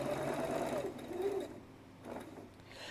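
Sewing machine stitching fabric up close, a steady whirring run for about a second and a half, then a short pause and a brief second burst.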